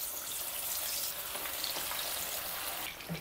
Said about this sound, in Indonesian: Lalu kita goreng ayamnya tadi yang sudah dimarinasi.